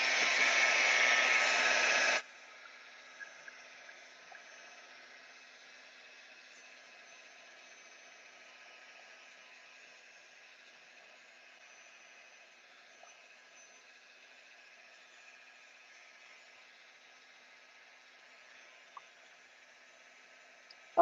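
A heat tool blasts loudly for about two seconds while drying watercolour paint on a gel plate, then cuts off, leaving only a faint hum and a few small clicks.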